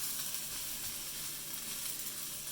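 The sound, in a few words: edamame being stirred into fried rice in a wok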